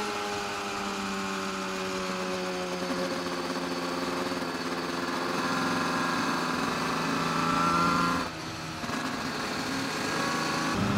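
A Suzuki RG500 racing motorcycle engine, the Barry Sheene bike, runs in a steady, buzzing mechanical drone for about eleven seconds. The tone holds even with a brief dip near the end and no voices.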